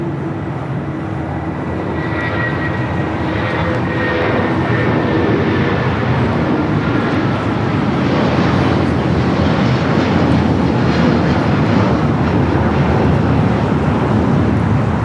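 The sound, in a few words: United Airlines Boeing 757 taking off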